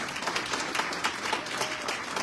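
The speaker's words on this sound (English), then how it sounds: "Give her a round of applause." Town hall audience applauding a 13-year-old speaker, a short burst of scattered clapping filling the room at moderate level with no voices over it.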